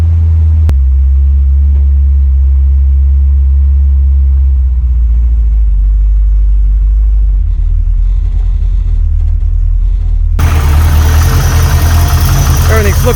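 A Holden HQ car engine idles with a steady low rumble throughout, then revs up louder near the end with harsher, brighter noise; no talk is heard over it.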